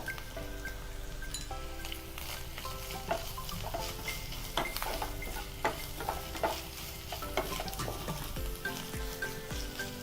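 Orange peel pickle mixture sautéing and sizzling in a pan, with a steady frying crackle and repeated scraping stirs of a spoon throughout, close and moderately loud, no voices.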